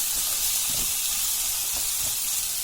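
Tomato pieces with salt frying in a hot non-stick wok for a village chicken curry, giving a steady, close, even hiss of sizzling throughout, with no talking.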